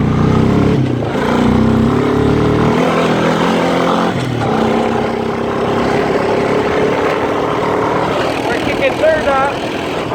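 A quad bike (ATV) engine revs hard and loud through mud, dropping away briefly and then roaring back in a sustained drone, with people talking over it.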